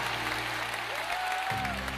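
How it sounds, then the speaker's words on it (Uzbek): Wedding guests applauding for the young couple, a thick, sustained round of crowd clapping with a low musical drone and a rising tone underneath. "bir guldiroz qarsaklar bo'lsin yoshlarimiz uchun"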